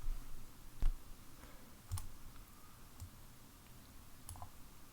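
A few sparse, faint clicks of typing on a computer keyboard while working in Grasshopper, spaced irregularly over a low background hum.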